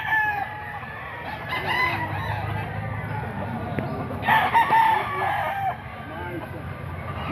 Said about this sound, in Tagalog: Ito mga manok ni Boss Albert mga idol